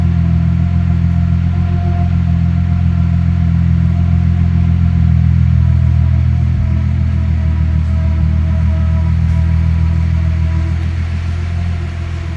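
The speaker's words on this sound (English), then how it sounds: "You know, the exhaust is much more of a monotone." A 1994 Nissan Skyline idles steadily after a cold start on its factory ECU, the exhaust giving a loud, even, monotone drone with a constant low rumble and no rise or fall throughout.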